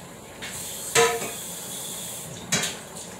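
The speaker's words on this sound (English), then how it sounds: "Let me get my frying pan" A frying pan is handled in a home kitchen, with two sharp metallic clatters a moment apart against a faint hiss.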